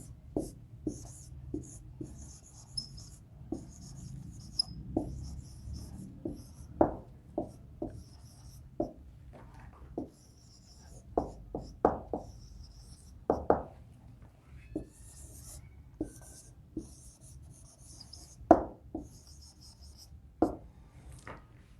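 Chalk or marker writing a sentence on a classroom board, heard as a long run of short, crisp taps and strokes in irregular bursts with pauses between words, close and fairly quiet, with no talking.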